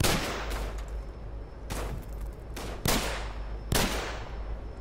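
Gunfire from a weapon in Call of Duty 3, fighting at a fuel plant: four loud, sharp single shots spaced about a second apart, each with a short ringing tail, over a steady low background rumble.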